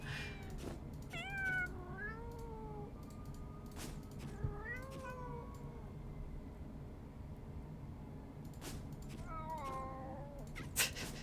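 Several meows from cartoon cats in a cat-finding puzzle game, each a short rising-and-falling cry at steady game volume over a faint background hum, with no talking.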